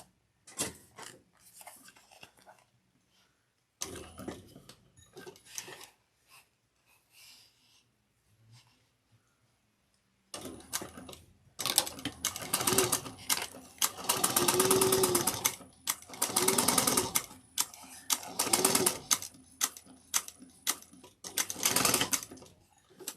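A sewing machine stitching an eighth-inch seam on a divider handbag, starting in short stop-start bursts and then running in long, loud, close runs with brief pauses between.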